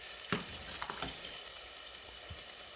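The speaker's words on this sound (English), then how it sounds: "I'm stirring these a little bit" Chicken and dumplings stirred in a pot, a steady close sizzle with a few soft scraping knocks of the spoon spread through, no voices.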